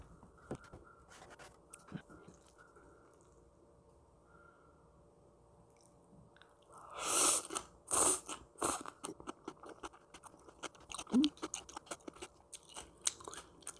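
Crunchy bites and chewing of fresh raw vegetables, cucumber and celery wrapped in perilla leaves, as part of a fruit and vegetable diet meal; several close crisp crunches and mouth sounds follow a quiet stretch, with no talking.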